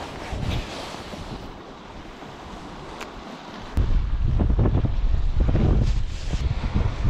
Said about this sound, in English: You get in this wind, it gets cold.